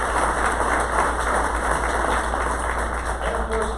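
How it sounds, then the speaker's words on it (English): A steady, dense wash of audience applause fills a board summit meeting room as a sponsor who provided food and materials is thanked, sustained and even throughout without pause. "A big round of applause for Miller's,"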